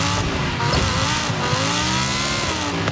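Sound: car sliding on a snowy track in video game Forza Horizon 5

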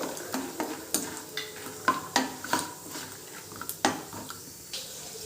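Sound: peanuts added and stirred in a pan over medium flame

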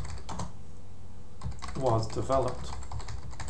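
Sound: typing on a computer keyboard

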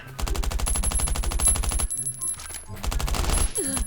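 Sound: gunfire in the video game Last Island of Survival

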